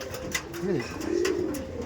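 Tournament pigeons coo softly in a few low, rolling calls, close by but quiet, with faint background sounds and brief speech.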